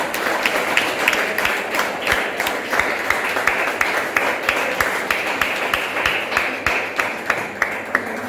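A church congregation applauds at a worship service, with continuous clapping that holds a steady rhythm throughout, dense and fairly loud in a reverberant room.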